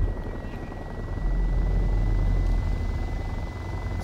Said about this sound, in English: I think there's a little chopper, listen. Little chopper.